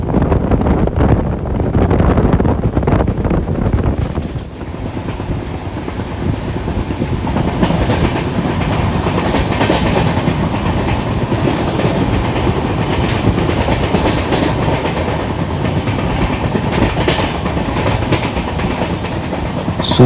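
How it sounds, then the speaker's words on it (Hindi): The non-AC Darshan Express 12494 rolls along the rails after leaving Vasai Road, a loud continuous rumble with rhythmic wheel clatter and buffeting wind, without voices. "फाइनली हमारी ट्रेन वसई रोड से बढ़ चली"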